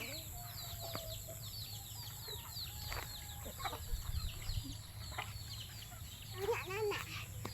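Chickens clucking and calling on a countryside farm, scattered short cries over a constant hum of background noise, moderately distant.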